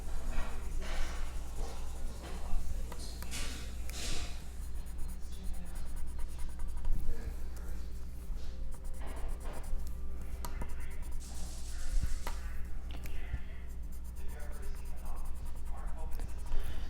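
Colored pencils scratching and shading across paper, a close, soft, continuous scribbling with short strokes and pauses, quiet background hum beneath.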